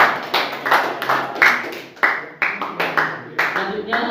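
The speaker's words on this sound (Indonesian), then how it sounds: "Kasih tepuk tangan untuk kelompok kanan." Classroom students clap for a group returning to their places, sharp irregular claps in loose bursts, fairly close, with some rhythmic grouping.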